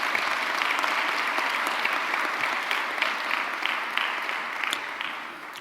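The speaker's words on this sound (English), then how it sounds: "Let's clap." A commencement ceremony crowd applauds continuously, dense steady clapping that tapers slightly toward the end.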